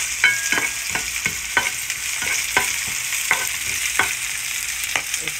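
Garlic and onion fry in a pan with a constant hissing sizzle, punctuated by a regular series of sharp spatula clicks and scrapes against the pan roughly every half second, close and without speech.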